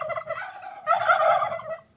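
Five young domestic turkey toms, about five months old, gobble in two loud bursts close by, the second longer and fuller, with no other sounds around them.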